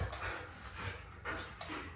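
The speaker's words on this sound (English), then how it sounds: "Thank you for being a good demo dog." Excited dog panting and whimpering during sit training, quick close breaths with short whines rising now and then, fairly quiet.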